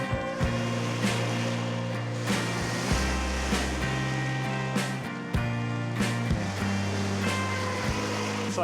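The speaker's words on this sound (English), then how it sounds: "So I hope you can hear me over the crashing waves here." Waves crash on the lakeshore at Chimney Bluffs as steady surf, broken by repeated bursts and wind buffeting close to the microphone, with no voices.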